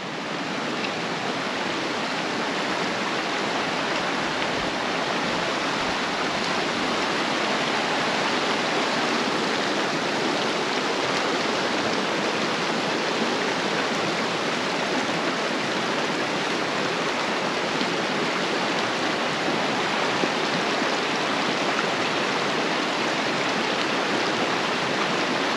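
Continuous rushing water of Agua Piedra Creek near Vadito, New Mexico, a steady broadband wash that holds evenly throughout with no voices.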